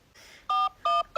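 Three clear touch-tone beeps in quick succession as a phone dials a number, each a short steady electronic tone, following a brief soft rustle.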